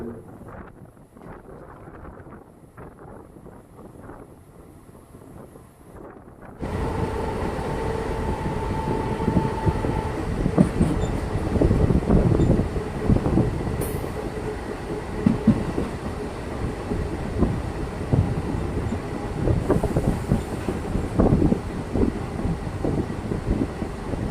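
A train runs along a bypass line near Mettupalayam, beginning as a faint, distant rumble, then suddenly becoming a loud, continuous roar of rolling wagons with wind buffeting the microphone.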